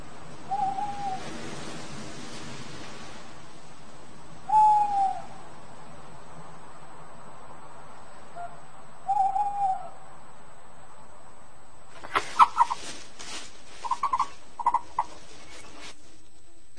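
A barn owl calling in darkness on farmland: a few brief, separate hooting calls spaced several seconds apart, fairly faint and distant, followed near the end by a quick cluster of sharper calls over quiet night background.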